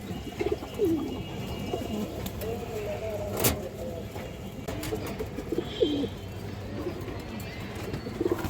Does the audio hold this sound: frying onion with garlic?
no